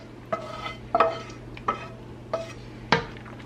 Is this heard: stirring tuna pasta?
yes